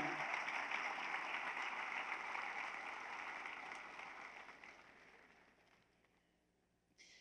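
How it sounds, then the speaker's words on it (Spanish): Congregation at a church service applauding after a sermon, a broad wash of clapping that starts fairly strong and gradually thins and fades over several seconds, ending almost silent with a brief burst at the close. "Aplauda bien para poder tomar agua."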